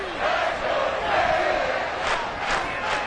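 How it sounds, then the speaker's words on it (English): Stadium crowd roar in a video game football match, a loud continuous wash of many voices swelling and dipping with a few sharper shouts near the end, under a steady broadband din. "Well, this crowd is making an impact right now."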